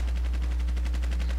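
Rapid automatic gunfire in the online shooter Battlefield Play4Free, a steady stream of evenly spaced shots over a loud constant low hum, with no pauses.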